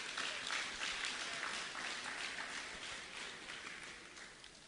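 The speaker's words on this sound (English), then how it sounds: "Let me hear a round of applause for them." A crowd applauds at a convention at Signal Hill, Tobago, steady dense clapping that starts full and slowly fades, heard at a distance and fairly faint.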